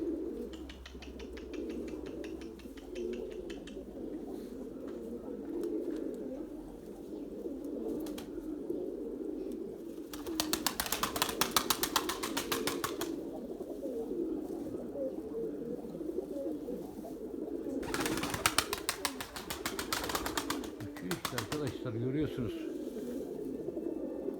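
Pigeon cooing softly under a steady noisy background, with two bursts of rapid wing flapping as a bird takes flight, heard outdoors from a moderate distance.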